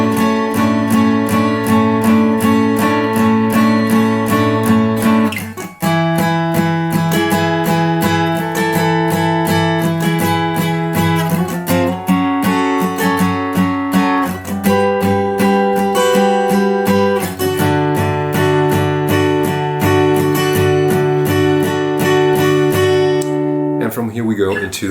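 Guitar slowly playing the chords to a song, ringing strummed and picked chords with open strings, changing every few seconds, loud and close with no talking over it.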